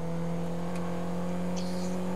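A car engine in GTA 5 drones steadily at a low, even pitch, like a heavy idling motor, with a few faint incidental noises layered over the hum.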